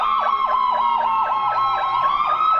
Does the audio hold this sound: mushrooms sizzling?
no